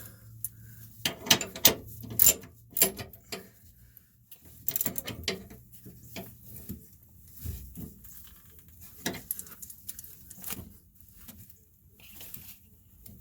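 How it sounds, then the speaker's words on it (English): Socket ratchet with a 14 mm socket tightening a bolt during an airbag install on a Ram 3500, heard as scattered, irregular clicking bursts and clanks, close but fairly quiet, with pauses between strokes. "14 socket, tighten it down"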